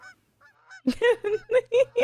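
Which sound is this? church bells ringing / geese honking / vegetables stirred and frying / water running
geese honking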